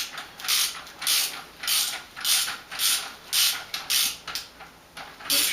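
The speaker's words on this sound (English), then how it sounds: "I just use my big socket, the what is it, 24 millimeter, and I just tighten it the rest of the way for now" A 24 millimeter socket on a ratchet tightens the fork cap of a Yamaha FZ1 motorcycle during a fork rebuild, giving a steady series of about eleven loud, close ratcheting creaks in even rhythm.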